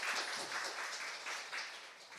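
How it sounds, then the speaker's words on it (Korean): Audience applause in a church hall, a steady wash of many hands clapping together, moderately loud and even throughout, with no voices over it. "우리 온마음 찬양단에게 박수로 감사 한번 표할까요?"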